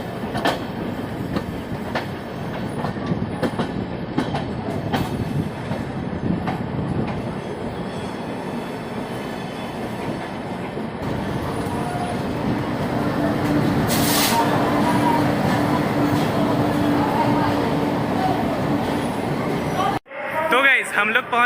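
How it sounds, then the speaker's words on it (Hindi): The Sabarmati Express pulls out of Chhapra Kachahari station with a loud, continuous rumble of rolling wagons, rising as it gathers pace, with brief wheel squeals and clatter and voices audible in the background. "फाइनली 15 मिनट के बाद हमारी ट्रेन जो है वो छपरा कचहरी से निकल रही है।"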